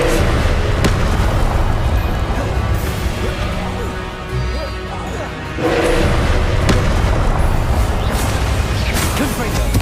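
Repeated Confringo spell blasts in Hogwarts Legacy, dense crashing explosions layered with magic effects and a spoken voice, loud throughout with a brief dip in the middle.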